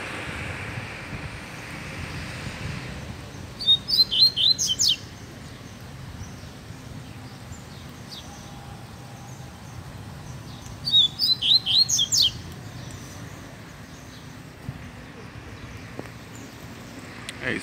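A double-collared seedeater (coleiro) songbird sings outdoors in a town square in two short bursts of rapid, high chirps, separated by a quiet stretch of soft wind and ambient outdoor noise.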